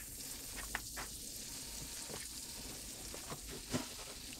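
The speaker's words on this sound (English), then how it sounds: "we got a couple tablespoons of butter in our pan. We're just using a little tiny pan. And we're going to soften up some onions." Chopped small yellow onions softening in a couple tablespoons of butter in a tiny pan, giving a steady low frying sizzle with a few soft stirring clicks and scrapes, no talking.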